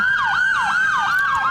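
An emergency vehicle siren wails in a steady, repeating rise-and-fall pattern, loud and close, with no voices over it.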